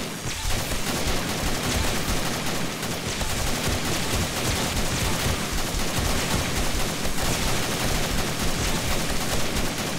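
Dense, continuous gunfire from a game weapon in the 7 Days to Die War3zuk mod during a horde night, loud sustained automatic bursts with booms, no talk.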